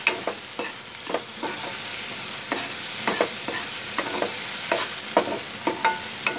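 Chopped onion and tomato fry in hot oil with a constant crackling sizzle, broken by a rhythmic series of sharp spoon scrapes and taps against the pan, close and fairly loud.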